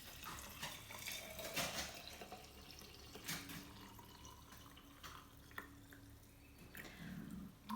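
Unheated tea being poured into a vessel, a thin trickling liquid stream with small splashes and drips, fairly quiet and close, with no talking.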